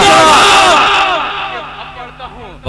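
A crowd at an Urdu poetry gathering (mushaira) chanting a takbir slogan in loud unison, a massed roar of many voices that swells at once and slowly fades away, close and dense.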